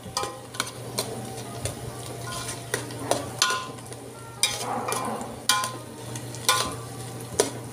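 Garlic and pasta are stirred in a hot frying pan, with a steady sizzle under repeated scraping strokes of a utensil against the pan.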